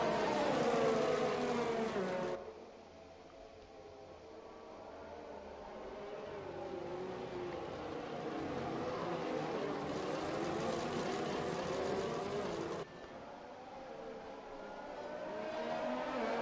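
Formula 1 race cars in a racing video game running slowly behind the safety car, a steady engine drone that shifts pitch and swells gradually, with abrupt changes in tone as the view cuts between cars.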